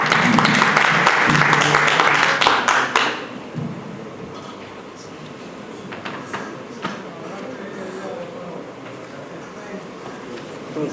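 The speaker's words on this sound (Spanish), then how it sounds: "Un aplauso a la ponente." Loud audience applause at an evening panel on statelessness rings out for about three seconds, then fades into a quieter room murmur with faint talk.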